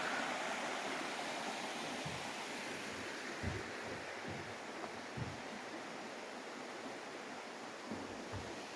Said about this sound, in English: sounds of the babbling brook